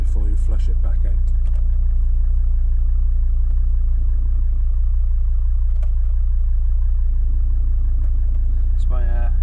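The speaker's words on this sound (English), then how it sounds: "It's my engine mount, you can hear." Volvo XC90 engine idling with a low steady rumble and occasional clunks from a worn engine mount as the gearbox is cycled through gears while stationary; people talk over it.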